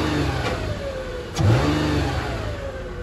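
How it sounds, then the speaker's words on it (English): Nissan Pathfinder SE 4WD with a 4.0 engine revs during a rev test, a steady close engine drone with a sharp throttle blip midway that rises and settles quickly. "Now, starting with a rev test."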